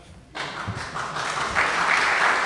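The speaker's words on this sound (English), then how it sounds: "please give them a full round of applause" Audience applause for a music ensemble at a Kaffeehaus evening, bursting in suddenly after a quiet moment and swelling into steady, dense clapping from a crowd.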